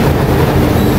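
Sydney train rumbling steadily at close range, a dense low-frequency roar with faint wheel squeal on top and no talk.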